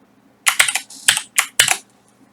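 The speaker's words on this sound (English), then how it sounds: "You can actually type in your name" Quick keystrokes on a computer keyboard as a name is typed, five or six close, crisp clicks in a short burst, followed by silence.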